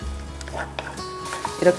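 Tomato paste and vegetables stir-frying with a little added water for Italian meat sauce give off a soft, steady sizzle, with a voice talking over it.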